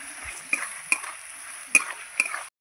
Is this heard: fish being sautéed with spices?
yes